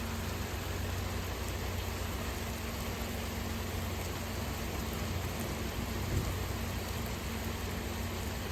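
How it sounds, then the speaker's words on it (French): Heavy autumn rain falling at about 10-15 mm per hour, a dense, steady hiss of drops that stays even throughout, with no voices and one brief louder splash near the end. "maintenant je vous laisse admirer ces fortes pluies"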